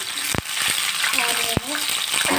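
Tomatoes and green chillies fry in oil in a pan with a loud, close crackling sizzle, cut by a few sharp spatula clicks and scrapes.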